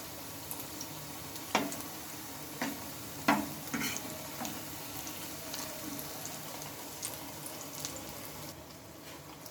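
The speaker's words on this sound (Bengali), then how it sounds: "উচ্ছেগুলো একবার তোমরা এইভাবে ভেজে নাও" Bitter gourd pieces frying in oil, a quiet continuous sizzle broken by a few sharp ticks and light utensil taps.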